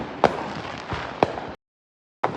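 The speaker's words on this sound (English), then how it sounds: "those fireworks are so cool" Fireworks bursting outdoors, with three sharp pops spaced about a second apart over a steady crackling hiss, followed by a brief silence before another burst.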